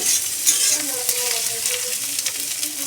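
Vegetables for chow mein stir-fry in a pan at home, a loud, steady sizzle with scraping stirs and faint clatter, no talk.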